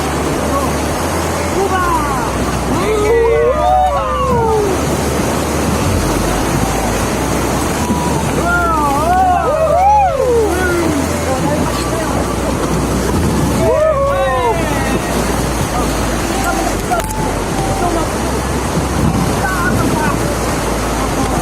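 A white-water rafting boat on a river, with constant rushing water and wind buffeting the microphone while several people shout and call out over the roar.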